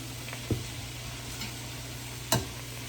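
Onions frying in bacon fat for a burger and onion gravy dish give a soft, steady sizzle, broken by two sharp knocks of a utensil against the pan as the food is turned.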